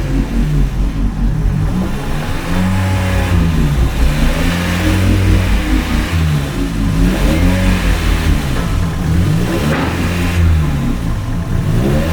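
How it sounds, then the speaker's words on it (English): A Honda Prelude's naturally aspirated engine revs hard on a dyno, loud and close, in repeated rising pulls that climb and fall back over and over. "we might get some pulls on the dyno just to really have a ballpark idea of what power Wago's putting to the ground"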